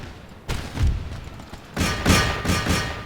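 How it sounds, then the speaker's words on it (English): Cannon fire in the Empire: Total War strategy game, heard as a series of booming thuds and cracking reports. They come in two clusters, the second louder and denser, with no talk over them. "Some wonderful cannon fire."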